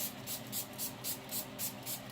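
Setting spray misted repeatedly onto a face during a makeup routine, a rhythm of about eight soft, airy hissing bursts evenly spaced, close and quiet, with no talking.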